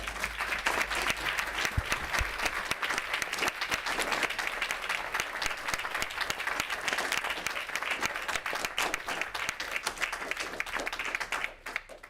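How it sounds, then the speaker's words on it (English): An audience at a town council meeting applauds steadily, a dense, fairly quiet patter of many hands clapping without a break before fading at the end. "let's give them another round of applause"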